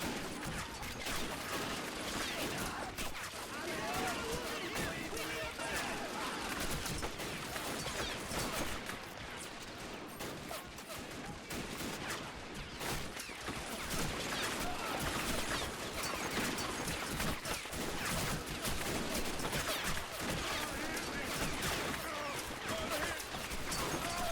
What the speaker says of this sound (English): Artillery still landing close.